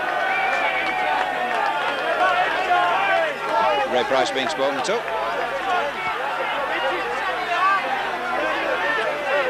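The crowd at a Wakefield versus Leeds rugby league match calls out and chatters loudly, a continuous babble of voices with a commentator speaking over it.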